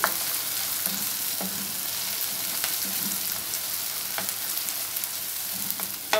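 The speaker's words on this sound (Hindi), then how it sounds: "तब तक हम लहसुन को फ्राई करेंगे जब तक कि इसकी स्मेल ख़त्म नहीं हो जाती" Garlic frying in a pan for a cauliflower and beef curry, a steady close sizzle with occasional scraping stirs and utensil taps, no voices.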